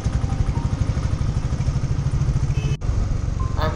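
A JAWA Perak Bobber motorcycle on a test ride, its engine thrumming steadily and loudly throughout with wind rush, and a brief dropout near the end.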